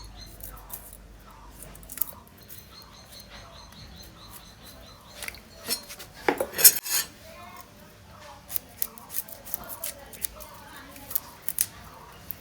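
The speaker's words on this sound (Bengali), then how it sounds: "আর এই যে পেঁয়াজগুলো কাটা শুরু করে দিলাম।" Onions being sliced thinly with a knife while preparing a village-style tengra fish kalia, heard as irregular soft scraping and tapping cuts, sparse at first and then a quick run of strokes, with faint background sounds.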